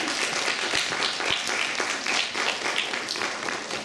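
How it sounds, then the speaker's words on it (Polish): An audience at an award ceremony applauds warmly, dense and steady clapping filling the room at a constant level. "Zapraszam serdecznie, gorące brawa."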